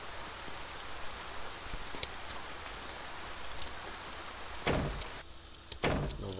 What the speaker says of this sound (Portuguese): Nossa, tá chovendo muito.